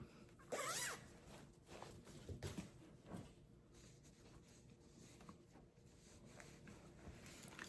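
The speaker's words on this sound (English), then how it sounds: "A lot of these bags have zippers." Zipper on a stitching project bag, a few quick close rasping pulls, the loudest early on, followed by soft handling rustles in a quiet room.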